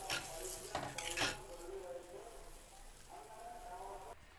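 Metal utensils clink and scrape against a pan of fish curry in a few quick bursts, followed by quieter cooking sounds and a voice.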